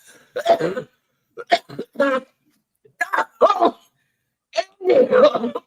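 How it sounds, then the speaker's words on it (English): A person coughs in several short, harsh bursts separated by pauses, close by, with some throat clearing among them. "Yeah, she's still coughing."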